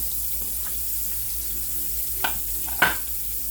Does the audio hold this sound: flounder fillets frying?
yes